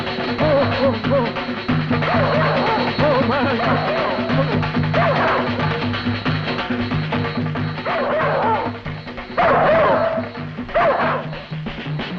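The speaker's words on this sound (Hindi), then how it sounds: "अरे कुत्ते हमारे ही पीछे क्यों पड़े हैं?" Several dogs bark and yip close by in a busy outdoor chase scene, the barking coming in repeated bursts over continuous music and background commotion.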